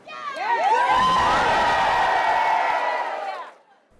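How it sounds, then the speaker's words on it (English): A rally crowd inside a shopping mall cheers and whoops, swelling quickly into loud sustained shouting before fading out, with overlapping voices yelling together. "the noisy but peaceful crowd brought shoppers to a standstill"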